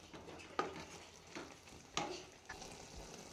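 Vegetables for a village-style tarkari bath fry in a pan, giving a steady low sizzle broken by a few distinct scraping strokes of a spatula at irregular intervals.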